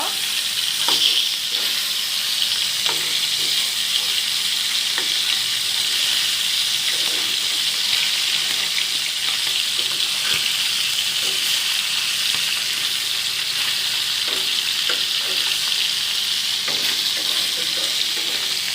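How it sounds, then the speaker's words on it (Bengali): Fish frying lightly in a pan give a steady, even sizzle close to the microphone, with faint clinks of stirring and no talking. "আমি যেই মাছগুলো রান্না করবো সেগুলো হালকা করে ভাজবো"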